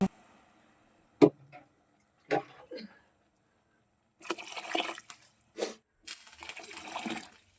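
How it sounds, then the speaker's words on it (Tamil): Water poured from a cup onto rice in a cooking pot for Tamil dal rice, several short splashing gushes separated by gaps and a few faint clinks, close and moderately quiet, with no speech. "அந்த கப்புக்கு நிறைய தண்ணி ஊற்றுங்க"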